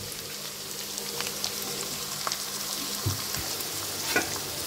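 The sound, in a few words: boiled sweet corn added and stirred in frying pan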